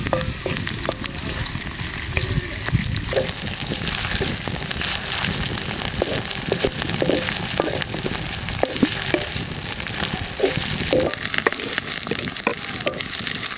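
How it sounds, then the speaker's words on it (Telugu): Freshly pounded ginger-garlic paste fries in a hot pan for egg fried rice, with a dense steady sizzle and scattered clicks and scrapes of stirring, close and loud throughout. "ఒక స్పూన్ ఫ్రెష్గా దంచిన అల్లం వెల్లిపాయ పేస్ట్ అండి దీంట్లో వేసుకొని బాగా పచ్చివాసన పోయే వరకు కలుపుకోవాలండి"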